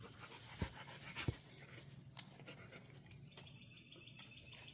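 A dog pants quietly outdoors in a garden, soft rhythmic breaths with a few faint bird chirps in the background.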